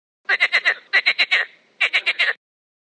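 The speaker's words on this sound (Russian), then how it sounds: "Лягушка." A frog croaks in three quick bursts of rapid, rattling pulses, loud and close with clear pauses between the groups and no other sound around.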